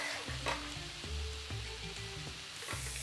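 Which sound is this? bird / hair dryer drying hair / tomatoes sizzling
tomatoes sizzling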